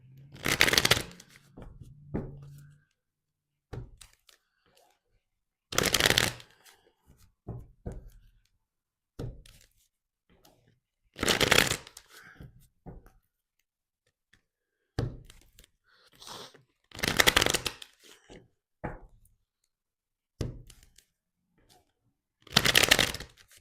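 Tarot cards being shuffled in repeated bursts, each a loud riffling flurry lasting a second or two, separated by quieter gaps with small taps and handling.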